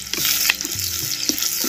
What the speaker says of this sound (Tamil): சேர்த்த அனைத்து பொருளையும் அப்படியே தேங்காய் எண்ணெயில் நல்லா வதக்கணும்